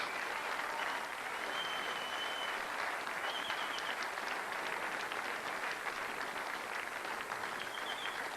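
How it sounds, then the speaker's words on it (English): Steady, fairly distant applause fills the hall as a snooker crowd claps the winner of a men's final decided 11 frames to 9, even and continuous throughout with only faint murmurs. "The crowd are appreciating it."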